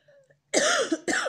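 Two harsh, close coughs in quick succession, loud and abrupt, preceded by a faint murmur.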